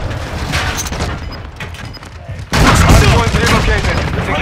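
Gunfire in the video game Call of Duty: Modern Warfare II, loud and dense, with bursts of shots and booms that grow sharply heavier partway through, and a voice faintly under the shooting.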